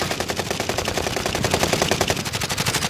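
Rapid automatic gunfire in Call of Duty: Warzone on Fortune's Keep, a loud close burst of evenly spaced shots lasting the full stretch without pause.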